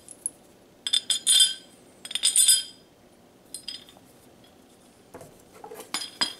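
Stainless Allen head bolts dropped into a Holley spread bore carburetor adapter on a Ford 390 make bright metallic clinks, two quick clusters of jingling rattles and then lighter scattered taps.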